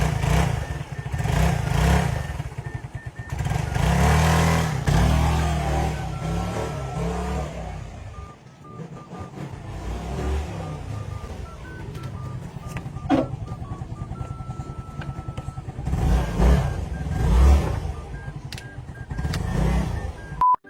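An old motorcycle that has sat in storage for a long time is started and test-run after a wheel is fitted, its engine sound rough and steady with bursts of revving and some clatter, close by, with no talk.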